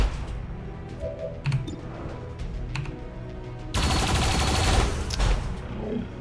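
Turret gunfire in the game XCOM 2 rattles in sharp bursts, with scattered shots early on and then a loud, continuous volley of rapid fire over the final seconds.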